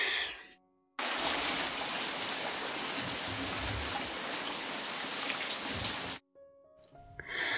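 Rain falls outside a home kitchen during a power cut: after a brief quiet start, a loud, continuous wash of falling drops fills the scene for about five seconds, then cuts off to near silence.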